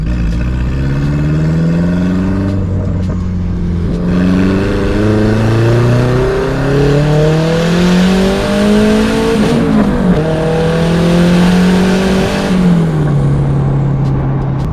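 A turbocharged Mazda Miata accelerates hard under boost, its engine note climbing through several gears, loud and close from inside the car, with brief dips between shifts and no talk.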